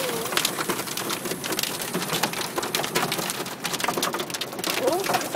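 Hailstones falling outdoors in Massena, New York, a dense, steady patter of impacts throughout with brief snatches of talk and a bird call faintly mixed in.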